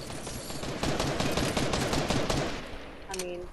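Rapid gunfire from the Fortnite video game rattles out in a dense, loud burst for a couple of seconds, then trails off into a short electronic tone.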